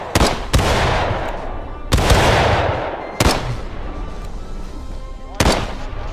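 Musket volleys and rifle shots in the American Civil War video game War of Rights, a few loud sharp cracks spaced apart, each followed by a rolling echo, with no talk over them.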